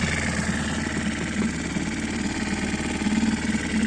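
A Mercury 6 four-stroke outboard boat motor runs steadily at idle, a loud, even mechanical drone with a fine pulsing rhythm and no talk over it.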